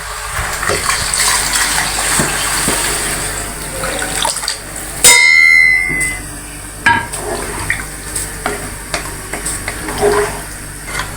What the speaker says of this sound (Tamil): மெஷர்மெண்ட் பண்ணி வச்சுருக்கேன் அந்த தண்ணி ஊற்றுறேன்